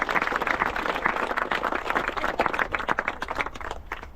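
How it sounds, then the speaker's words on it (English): Outdoor parkrun crowd of runners applauding the volunteers before the run, a steady patter of many hands clapping at a moderate distance that thins slightly toward the end. "let's give a round of applause to all our volunteers."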